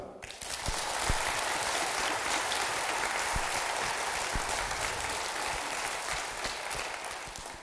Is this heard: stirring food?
no